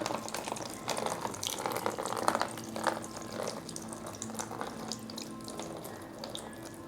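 Nutrient water poured onto small seed-starting cups of freshly sown seeds, a steady close splashing and trickling stream that runs the whole time, with no voices.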